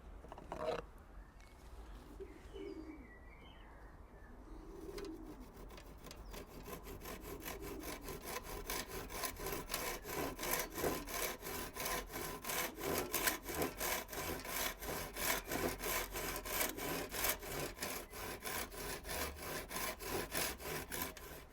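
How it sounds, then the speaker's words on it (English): Steady back-and-forth strokes of a handsaw cutting a mitre in a wooden skirting board, starting hesitantly and then settling into a fast, even rhythm that continues throughout at moderate volume. "Next thing to do, obviously we want to measure and cut the mitre for this side."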